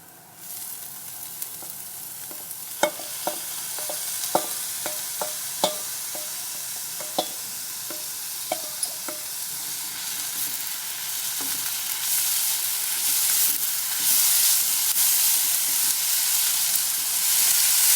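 Chopped spinach (palak) sizzles steadily in a hot pan while a utensil clatters against it in a string of sharp taps, the frying hiss swelling louder toward the end.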